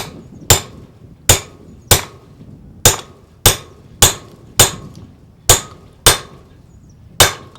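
A hammer drives a bearing into a 1974 Honda CB750K rear wheel with about eleven sharp metallic blows at an irregular, roughly steady pace. Each blow rings briefly, and nobody speaks.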